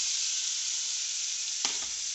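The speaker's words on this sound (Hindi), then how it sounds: "मैं डालूंगी इसमें प्याज कटा हुआ, बारीक कटा हुआ प्याज को अच्छी से भूनूंगी" Finely chopped onion frying in hot oil in a pan, a loud continuous sizzle close up, with one brief stirring scrape near the end.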